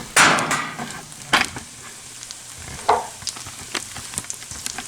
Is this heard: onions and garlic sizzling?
yes